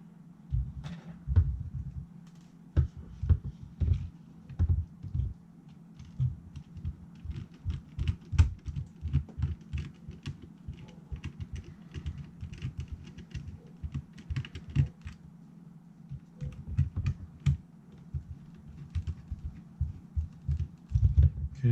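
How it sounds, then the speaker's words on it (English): Small screws being driven into the gimbal of a crashed DJI Mavic Air 2, a close, quiet stream of tiny ticking clicks in uneven bursts with no talking. "I'm gonna put in the smallest 2 screws first"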